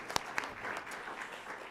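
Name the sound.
audience applause for panel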